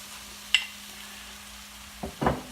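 Mashed potato worked into cooked shrimp for shrimp cutlets: a few soft, wet squelching presses and scrapes of a utensil in a pan, faint and brief, with quiet gaps between them.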